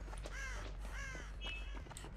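Crows in the video game Dead by Daylight give a few harsh, rasping caws in a loose sequence over a low steady hum. They sound moderately close but quiet overall, and no one talks.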